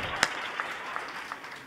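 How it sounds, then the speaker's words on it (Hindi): Schoolchildren clap together in a hall, a fairly faint, steady patter of many hands with a few sharper claps standing out at intervals, heard from some distance. "ज़ोरदार तालियाँ बजा के मुझे बताएं"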